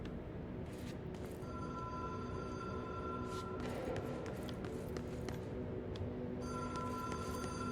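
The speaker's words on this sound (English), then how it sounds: "The phone is ringing." A telephone rings in the video game Control, a repeating electronic bell in regular bursts over a low steady hum, moderately loud with no talk over it.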